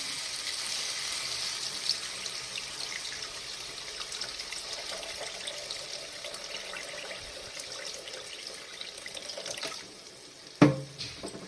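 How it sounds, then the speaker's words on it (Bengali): Water is poured into fried, oil-releasing spice paste for a silver carp fish curry, making a steady rushing pour for about ten seconds, then a sharp clatter near the end. "এবার আমি জল দিয়ে দেব।"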